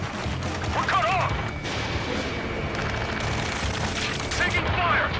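Gunfire erupts in the Ace Combat 7 video game during a firefight near a space elevator, dense bursts and crashes under shouted radio chatter and voices throughout.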